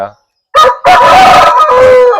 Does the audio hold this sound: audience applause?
no